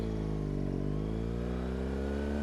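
A BMW R1200 GSA motorcycle engine rising in pitch as it accelerates along a dry road, a steady close-up drone with shifting harmonics and no talk.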